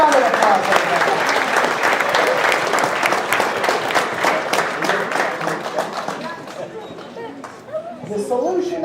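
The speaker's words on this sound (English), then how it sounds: "Big round of applause, everybody." An audience at a university chemistry demo night bursts into loud, sustained applause with dense clapping and some cheering, tapering off toward the end as a voice begins to speak.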